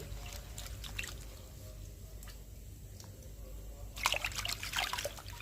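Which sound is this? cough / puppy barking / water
water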